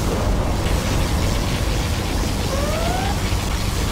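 A particle cannon blast in Command & Conquer Generals Zero Hour, a loud, sustained roaring rumble of broadband noise filling the whole clip, with a brief rising tonal whine near the end.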